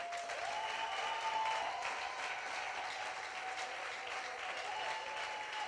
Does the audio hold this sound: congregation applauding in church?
yes